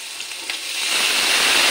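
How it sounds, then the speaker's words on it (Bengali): Spice paste of green chilli, onion and a little ginger sizzles in a pan for a small rohu fish curry with long beans, a bright frying hiss that swells louder over the brief moment with faint stirring clicks. "মশলাটা ভালো করে কষে নিই।"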